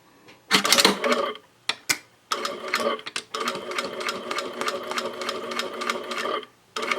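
Sewing machine stitching a mini box pouch: a few short bursts and clicks give way to a sustained, rapid mechanical whirr of stitching that stops near the end, close and clear.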